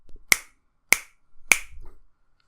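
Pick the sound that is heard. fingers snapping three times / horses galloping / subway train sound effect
fingers snapping three times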